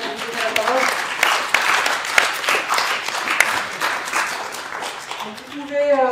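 An audience at a strikers' meeting, hotel workers celebrating a strike victory, claps steadily in sustained applause with sharp individual claps standing out, and a voice speaks over it near the end.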